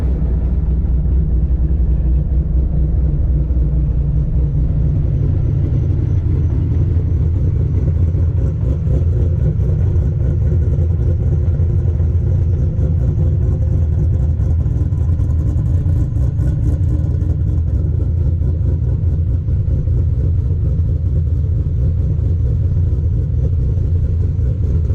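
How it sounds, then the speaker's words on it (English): A naturally aspirated Ford Coyote V8 with aggressive cams runs hard on a dyno. It is a loud, continuous deep rumble with heavy low-end drone that holds steady at high revs throughout. "let you actually hear what a Coyote with some decent cams on an NA deal sounds like without a ghost cam tune"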